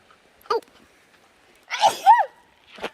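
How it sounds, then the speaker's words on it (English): Several sneezes from a person, one short burst near the start and then a louder, drawn-out double sneeze with a wheezy breath, followed by a brief sharp sound at the end. "You keep sneezing, we'll have to call a priest for the next one."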